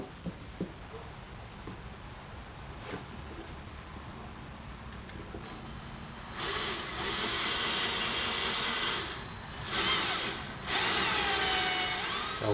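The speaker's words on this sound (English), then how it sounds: "now that you've got your hole drilled through here" A power drill bores a hole through PVC pipe for a homemade take-down bucksaw, starting quietly, then whining loud and steady from about halfway, with a brief dip before it resumes, no voices.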